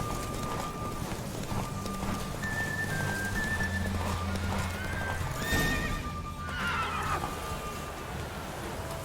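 A horse gallops in the Witcher 3: Wild Hunt video game, hooves drumming steadily and up close, with a neigh breaking out partway through over soft melodic game music.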